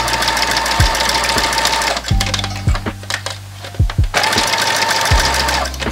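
A sewing machine stitches elastic onto swimsuit fabric for a ring bikini, running in close, loud, rapid whirring bursts with a short pause midway, punctuated by a few soft thumps.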